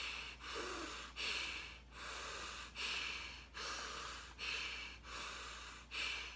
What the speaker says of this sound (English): breathing in through your nose, out through your nose. Nice, fast, sharp breathing.